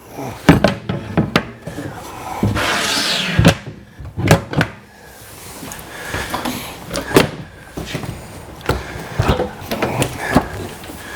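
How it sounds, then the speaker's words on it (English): Self-closing wooden drawers in a 2019 Forest River Work and Play toy hauler travel trailer slide and thump shut several times nearby, with rubbing and knocking sounds mixed with other handling noise. "drawers shut automatically. They're self-shutting."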